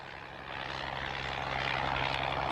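A WWI-era monoplane's propeller engine drones steadily through the air, its hum swelling slightly louder after a quieter start and staying faint and continuous with no voices.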